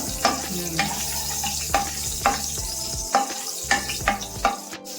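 Five green chillies sizzle steadily in hot oil in a pan for avarekalu sambar, with a spoon scraping and tapping the pan in a regular rhythm close by.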